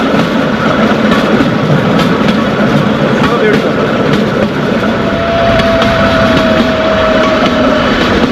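A passenger train runs along a railroad track in Kentucky, giving a loud, steady, continuous rumble with rolling wheel and wind noise throughout, heard from on board.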